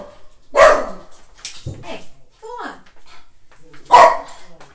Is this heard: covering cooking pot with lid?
no